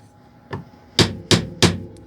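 Four sharp knocks of a Kershaw Bareknuckle folding knife struck against a hard surface to test its lockup, one soft then three louder, close and evenly spaced.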